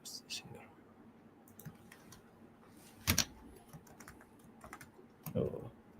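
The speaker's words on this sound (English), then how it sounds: "She's typing already." Computer keyboard keys tap in short irregular bursts, faint and close, with scattered clicks and a louder clack midway, while soft murmuring sounds come and go in the background.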